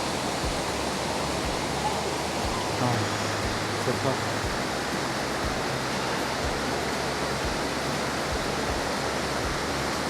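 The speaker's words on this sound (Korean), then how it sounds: "꽝시 폭포가 보이고 있습니다" Water from Kuang Si waterfall pours in a dense, steady rushing hiss that fills the whole stretch, loud and near, with soft low knocks recurring underneath.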